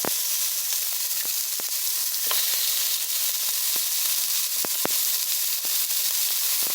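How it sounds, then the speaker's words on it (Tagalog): Pork meat strips on the bone sizzle and fry steadily in a hot pan, a constant close hiss broken by scattered sharp pops and crackles, with no talking. "Now we're cooking our meat strips. Now I first cook the bone."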